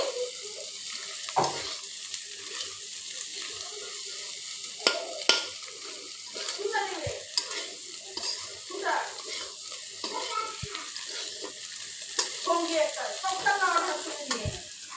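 Kaita fish fried with egg in a pan sizzles and crackles steadily as it is stirred, with scraping and soft clinks, and occasional quiet background noise.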